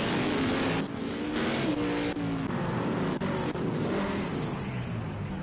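Race car engines roaring continuously in a Minecraft stock car race at Kern County, loud sustained revving that rises and dips as cars shift and pass, with no pauses.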